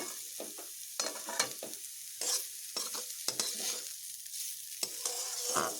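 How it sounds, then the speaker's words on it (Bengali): Sliced banana stem frying in a pan while being stirred, with repeated scraping spatula strokes over a steady close sizzle throughout. "একটু বেশ ভালোভাবে ভেজে নিচ্ছি থোর"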